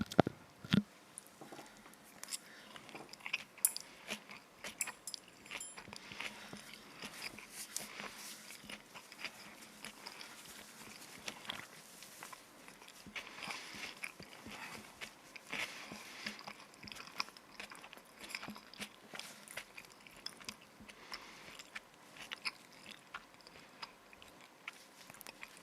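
Close-up crunchy chewing and biting of homemade unusual sushi with spicy mustard, dipped in soy sauce, a steady run of wet, crisp mouth sounds and small smacks continuing for the whole stretch with no talking.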